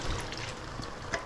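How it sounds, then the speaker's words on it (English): Water being added to a cooking pan with tomatoes, a continuous broadband splash and trickle heard close up for just over a second, with no talking. "I'm just going to add a bit of water."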